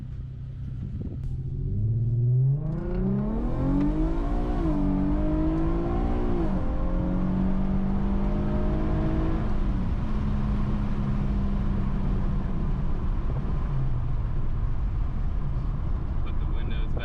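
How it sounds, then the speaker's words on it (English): A custom exhaust on an Infiniti Q50 drones and rises in pitch as the car accelerates, then settles into a steady cruising hum, heard from inside the cabin with a person talking over it. "Put the windows back up so I can hear this exhaust a little better."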